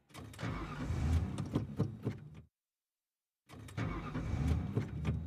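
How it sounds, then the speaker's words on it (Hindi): A car's starter motor cranks without the engine catching, two close, loud bursts of rapid churning separated by about a second of dead silence. "ये गाड़ी क्यों नहीं स्टार्ट हो रही है?"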